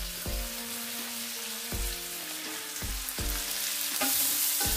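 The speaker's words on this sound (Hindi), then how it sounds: "इटा भी गोल्डन करके फ्राई करेंगे गोल्डन ब्राउन कलर आसला पर्यंत फ्राए करेंगे" Onions sizzle steadily in hot oil in a pan, with periodic stirring scrapes breaking the frying hiss every second or so, close and fairly loud with no talk.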